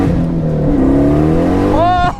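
A 700 hp 2006 Pontiac Solstice revs its engine loudly and close by, a steady rising drone with a sharp upward climb in pitch near the end.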